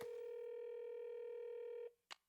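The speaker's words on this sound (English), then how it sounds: "It's ringing." A steady electronic phone tone holds for about two seconds, cuts off, and a single short click follows.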